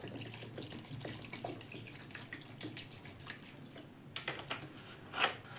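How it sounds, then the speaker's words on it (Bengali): Water poured into a pan of soybean curry with potatoes, a steady splashing pour close by with a few brief clatters, no talk. "জল দিয়ে দিলাম।"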